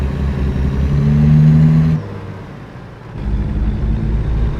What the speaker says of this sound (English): I always did like the sound of the Packard engines and the Kennys and the Peterbilts